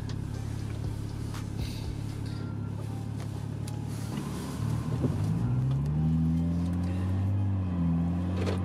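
BMW 335i gas-engine car running on diesel oil, engine droning steadily and then revving higher as it accelerates, with faint interior noise and no clear talk.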